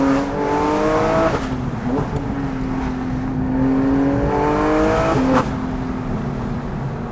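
Porsche GT3 RS with a 4.5-litre engine accelerating on a straight, its exhaust wailing in rising sweeps through two gear changes, loud and close, with no talk.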